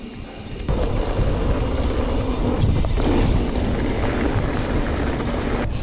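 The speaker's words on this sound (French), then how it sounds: "Le vent se lève en plus, tu le sens le vent." Loud steady wind in the countryside buffets the microphone with a dense low roar that holds throughout, no voices.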